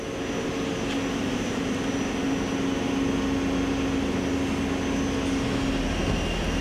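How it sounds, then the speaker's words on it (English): Hardinge CHNC-III CNC lathe spindle spinning at 1500 RPM, a steady close hum with a constant whine and broadband machine-room noise that holds even and unchanging throughout. "The spindle is currently running at 500 RPM. That's 1500 RPM."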